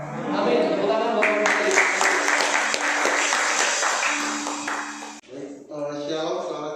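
A congregation at an Indonesian church service breaks into applause, brisk clapping beneath music and a voice, stopping abruptly near the end as a speaker continues.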